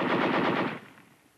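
A tank machine gun fires one short, loud, rapid burst that fades quickly, with no talking, as in a WWII US Army tank gunnery training film.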